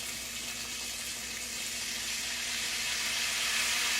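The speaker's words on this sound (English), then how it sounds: "I'm going to put a little water in it." Water pours into a hot pan holding a chuck pot roast, a steady hissing, sizzling rush that swells slightly louder toward the end, close by with no talking.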